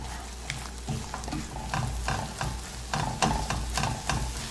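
Scrambled eggs sizzle and crackle in a frying pan while a utensil stirs and scrapes, tapping in an uneven rhythm; close and fairly quiet, with no voices.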